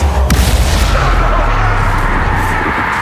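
Loud booming spell explosions from Bombarda and Confringo in Hogwarts Legacy, heavy low rumbling blasts with a sharp crack early on, sustained and close, with game voices shouting over them.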